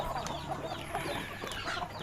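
Chickens clucking steadily at a Thai backyard flock being fed chopped banana stalk, several overlapping birds calling with busy, dense texture throughout.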